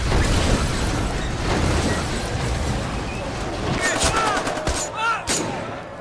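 Rapid bursts of gunfire and booming explosions from a film's terrorist attack on a train station crackle through a dense, chaotic mix, with sharp pops and blasts piling up over a loud background.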